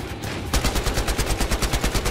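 Rapid automatic gunfire from the video game Battlefield Hardline, a loud, evenly paced burst of about fourteen shots starting abruptly after a brief quiet moment of game ambience.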